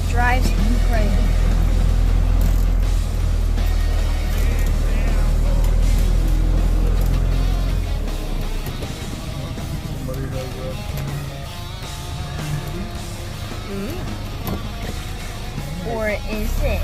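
A 1972 Mercedes-Benz 220d W115 diesel car is driving. A low engine rumble stays heavy at first, then lightens and drones on steadily beneath someone talking throughout.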